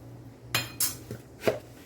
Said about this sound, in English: So I'm just going to cover it and let it simmer.